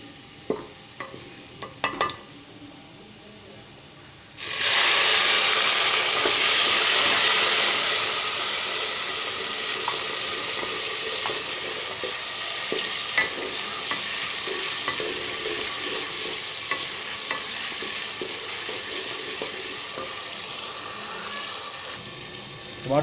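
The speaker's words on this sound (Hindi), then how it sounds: "अभी इसमें मैं टमाटर शामिल करूँगा।" Tomatoes hit hot oil in a cooking pot for dal chawal and sizzle loudly at once, then keep up a steady frying hiss broken by scraping stirs, close up and with no talking.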